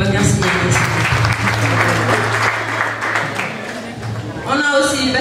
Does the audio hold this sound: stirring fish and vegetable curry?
no